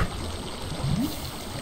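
Water flowing from a water feature in the video game Minecraft, a steady, low rushing trickle that runs quietly and unbroken through the short moment with no voices over it.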